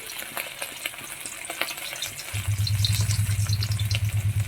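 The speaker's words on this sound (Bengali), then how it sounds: "ও মাছ ফুটা শুরু হয়ে গেছে" Fish cooks in a pan, with soft sizzling that turns into a loud, rapid, rhythmic bubbling heard up close about halfway through.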